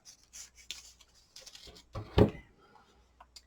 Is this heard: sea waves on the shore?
no